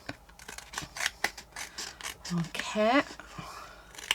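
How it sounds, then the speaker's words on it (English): Scissors cutting around a thick, layered paper tag stamped with garden images, giving short crisp snips under a person's talking voice. "we're just going to cut around it like so"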